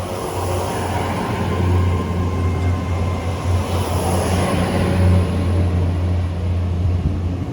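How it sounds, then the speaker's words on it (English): A Great Western Railway service from London Paddington to Penzance departs Parr station on the Cornish Main Line, a steady loud engine drone rumbling close by throughout with no talk. "departing out now is the 12:03 Great Western Railway service from London Paddington to Penzance"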